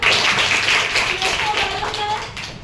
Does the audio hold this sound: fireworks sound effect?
no